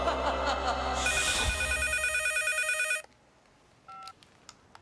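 A telephone rings loudly indoors for about three seconds, with a bright repeating electronic trill over soft background chatter, then cuts off as the call is picked up, followed by a couple of faint beeps.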